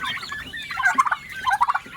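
Pet turkeys gobbling nearby, two quick rattling bursts of gobbles in close succession, loud and with no talking.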